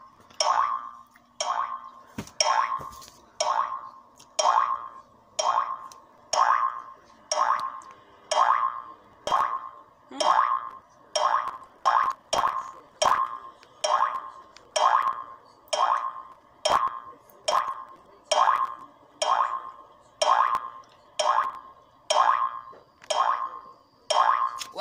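Toy bouncing llama found on a TV in a game keeps springing with a cartoon boing, about two dozen evenly spaced, loud, twangy bounces repeating steadily with no talking.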